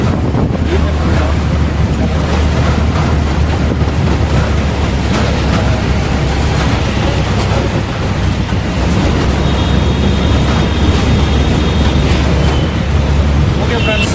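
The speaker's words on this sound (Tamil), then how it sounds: "இப்போ பாருங்கள் மக்களே தண்ணி எப்படி போகுது" Loud, steady rush of churning river water pouring through a barrage near Vijayawada, a constant roar with wind buffeting the microphone throughout.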